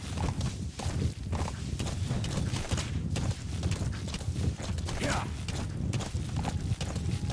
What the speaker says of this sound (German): wenn da so ein Gestörter mit seinem Pferd durch die Berge reitet